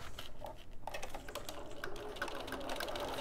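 A home sewing machine stitches along an earlier seam on a slip-on head cover, a steady close mechanical patter of rapid needle strokes running throughout.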